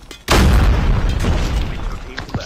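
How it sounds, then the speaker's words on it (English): Grenade explosions in an online shooter video game: a loud, sudden boom bursts in after a brief quiet start and rumbles on heavily, with smaller blasts and crackle trailing through the rest. "They're throwing grenades, watch out."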